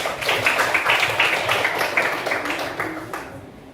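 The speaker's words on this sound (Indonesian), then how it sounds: "Oke, tepuk tangan buat kelompok auditori." Classroom students clapping for a presenting group, a steady patter of many hands lasting a few seconds before tapering off, with faint voices underneath.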